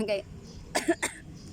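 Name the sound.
cough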